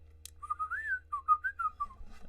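A person whistles a short, wavering melodic phrase alone, clear and close, with a low steady hum underneath.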